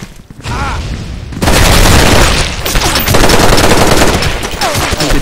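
Rapid bursts of gunfire fill a competitive team video game match, loud and nearly continuous, with dense overlapping shots and booms after a brief quieter opening.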